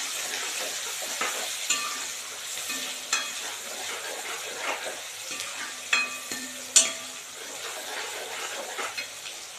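Tomatoes and chopped onions fry in a pan for shev bhaji, giving a soft constant sizzle broken by repeated clicks and scrapes of a stirring spoon, close up and with no talking.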